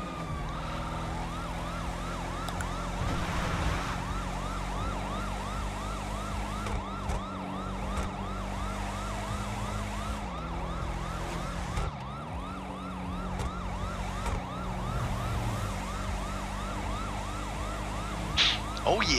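A video game police car siren wails, cycling up and down steadily throughout, loud and continuous over a low engine drone, with no talking.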